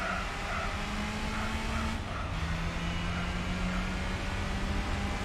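Toyota Vitz small hatchback engine in the Gran Turismo 4 racing game, a steady, buzzy, washing-machine-like drone with a slight rise in pitch midway, loud and continuous with no talk.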